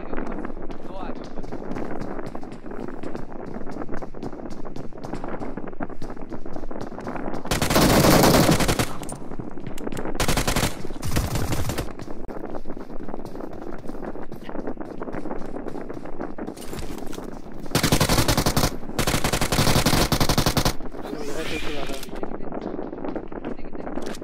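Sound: machine gun firing in a video game

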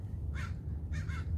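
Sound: crows cawing in a garden

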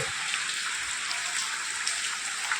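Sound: heavy rain

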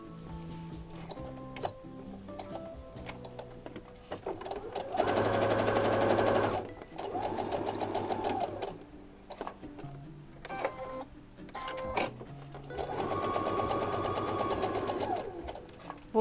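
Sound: sewing machine stitching fabric

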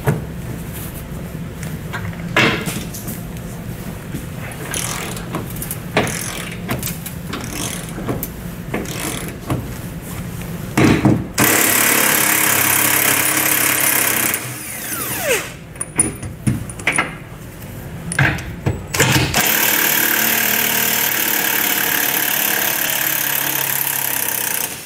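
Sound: power tool removing bolts

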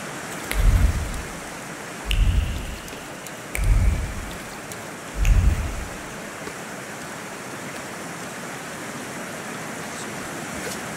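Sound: heavy rain downpour with thunder

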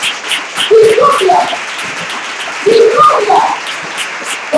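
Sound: applause

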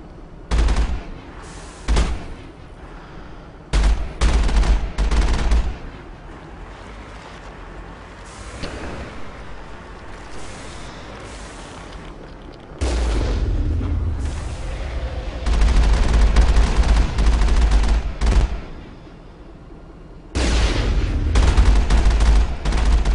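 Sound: gunfire while fighting synthetics in Mass Effect video game

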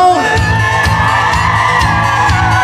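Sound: men at a wedding party shouting

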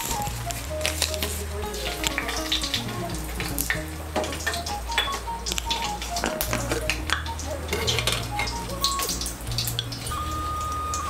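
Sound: tempering bay leaf, dried chillies, five-spice in hot mustard oil

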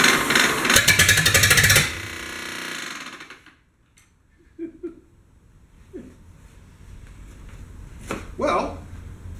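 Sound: Ford Model A car engine running on first start

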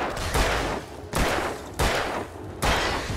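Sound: gunshots in video game Alan Wake

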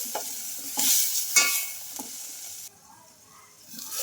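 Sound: tomatoes frying with salt and turmeric

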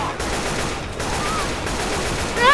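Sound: gunfire in the video game Left 4 Dead 2

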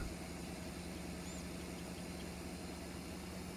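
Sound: tractor engine idling

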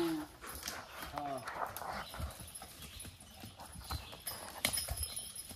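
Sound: horse hooves clip-clopping

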